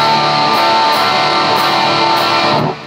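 Electric guitar through an EVH 5150 amp on channel 2, gain at twelve o'clock, recorded from the direct out: a dense, loud distorted chord ringing continuously for nearly three seconds before cutting off.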